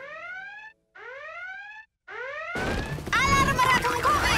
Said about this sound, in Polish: Alarm ratunkowy!